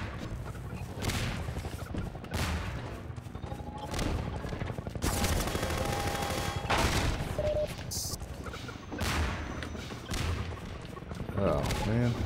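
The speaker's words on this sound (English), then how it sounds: "Oh, he's dropping bombs." Bombs explode amid chaotic combat in the Half-Life mod Cosmonaut, repeated loud bursts and crashing booms mixed with rapid gunfire, with a player talking over the action.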